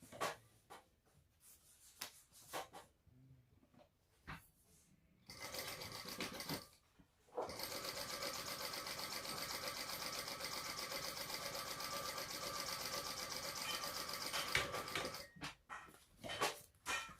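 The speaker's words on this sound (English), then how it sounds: "we're going to stitch that on to the zipper sandwich" A sewing machine stitches a sling bag in one long, steady run of whirring needle strokes, with shorter starts and stops and handling sounds before and after.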